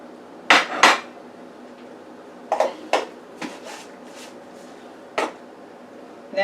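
Small tomatoes dropped into a pot of chicken and shrimp gumbo, giving several sharp clanks and knocks on the metal pot, spaced irregularly, close and fairly loud with no talk.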